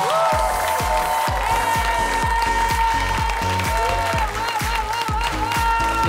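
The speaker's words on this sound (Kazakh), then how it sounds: "Не деген овациялады." Audience applause and ovation at a game show, steady clapping throughout with a rhythmic music beat thumping underneath.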